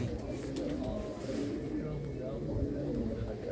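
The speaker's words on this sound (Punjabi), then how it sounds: "ਸੋਹਣੀ ਕਬੂਤਰੀ ਆ ਪੂਰੀ ਵਧੀਆ ਬਾਈ" A prized female pigeon coos in a loft in a Punjabi village, a steady low murmur of cooing that runs under a voice throughout.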